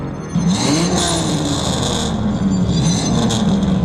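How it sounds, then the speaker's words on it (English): A car engine runs loud and steady, a continuous close rumble with a whining upper tone that rises and falls slightly, with no one talking over it. "shut off your engine."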